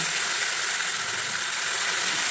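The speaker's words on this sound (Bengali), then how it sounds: "এবারে আমি মাছটা যে ম্যারিনেট করে রেখেছিলাম, সেই মাছটা আমি কড়াইয়ে দিয়ে দেবো আস্তে আস্তে" Marinated koi fish goes into hot oil in a wok, giving an even, loud hissing sizzle that holds steady for a couple of seconds.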